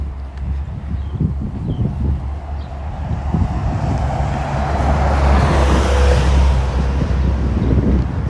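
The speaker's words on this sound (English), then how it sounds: "Here comes another bus on the Vaughan route." A city bus on the Vaughan Road route in York, Toronto, passes by, rising to a broad rushing roar over wind and street ambience before holding near its peak at the end.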